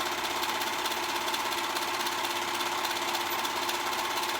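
Sewing machine stitching the side seam of a girls' dress, a fast, steady mechanical whirring hum with rapid needle chatter, close and continuous for several seconds.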